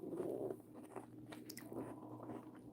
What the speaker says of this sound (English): I'm sorry for crunching in y'all ear.